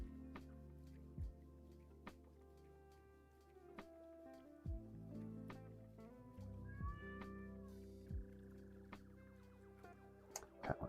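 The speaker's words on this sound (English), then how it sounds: "Cat wants to come in." A cat meows outside wanting to come in, a faint rising meow midway through, amid scattered clicks, taps and low tonal sounds from a quiet indoor room.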